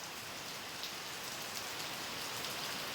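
Steady, dense nighttime rainfall patters evenly on a surface, a continuous hiss with no voices.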